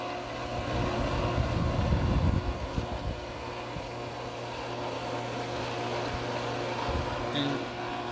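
A pool pump runs steadily while priming, its strainer pot housing cracked, a constant close motor drone with a rougher, surging stretch early on.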